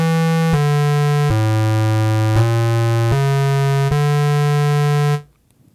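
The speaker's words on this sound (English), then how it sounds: "You get this big roaring square wave" Ensoniq EPS16+ internal square wave on a forward loop, a loud roaring buzzy tone played as a run of six sustained notes that step in pitch, ending abruptly, with no talking.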